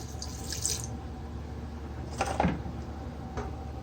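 Half a cup of water is poured into a pot of mutton karahi, a brief splash and trickle close by with faint clinks of the cup and pot, and no talking.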